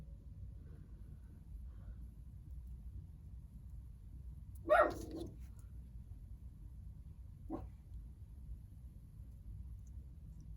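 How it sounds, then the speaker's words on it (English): A pet dog barks once, a short sharp bark at moderate distance over a quiet low room hum, followed a few seconds later by a softer single yip. "Not quite sure what my dog's barking at"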